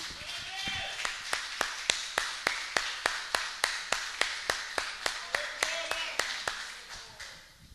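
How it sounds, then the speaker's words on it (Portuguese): A church congregation claps together in a steady, even rhythm, about twenty crisp claps in a row at moderate volume, with a faint voice underneath. "Aplauda o Senhor em nome de Jesus."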